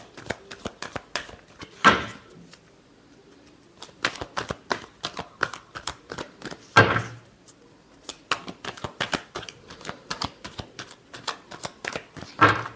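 A tarot deck is shuffled by hand, with bursts of crisp riffling and flicking cards close up, separated by brief pauses and repeating in uneven rhythm.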